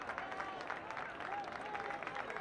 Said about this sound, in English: Some applause there for young Barajas